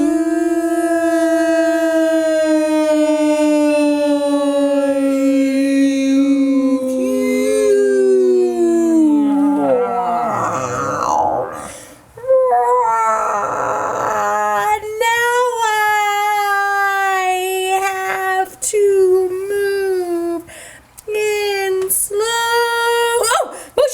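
Several people imitate a dog howling with their voices, long drawn-out wavering howls that slide up and down in pitch, loud and close, with brief breaks and laughter-like bursts between them.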